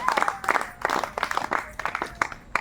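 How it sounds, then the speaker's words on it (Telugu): Loud rhythmic clapping from a congregation in a prayer hall, several quick bursts of hands beating together in steady time, close and filling the room, with no talk over it. "గట్టిగా చప్పట్లు కొట్టాలి."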